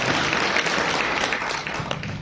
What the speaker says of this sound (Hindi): बजा सकते हैं आप तालियां